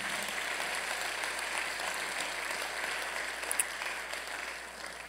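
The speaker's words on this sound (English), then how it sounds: "clap your hands for the life of Representative Gail Alexandria" Mourners at the funeral service for Representative Gail Alexandria Finney clap for her life, a soft, sustained wash of applause heard from a distance in a large hall.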